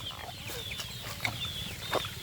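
Soft, scattered clucking from a group of chickens over a low background hum, with a couple of sharper chirps standing out.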